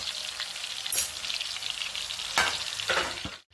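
Ground masala paste of onion, coconut and garlic for misal frying in a pan, a loud dense sizzle with a few sharp stirring bursts, no talking.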